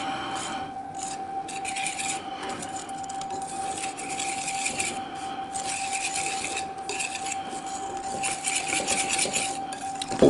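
Whisking flour into eggs, sugar and salt for crêpe batter, a steady scraping, rasping stir of utensil against bowl that runs continuously and close, with no talk over it.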